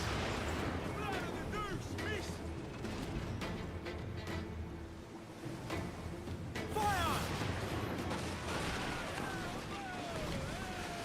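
Ship cannons booming in the Assassin's Creed Black Flag video game, heavy blasts over a continuous bed of ocean waves and wind, with someone talking and music running underneath.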